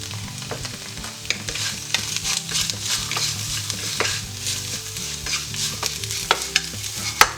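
Tofu browning in a pan while being stirred, a constant close sizzle broken by frequent scraping and clinking of the utensil against the pan, with no voices.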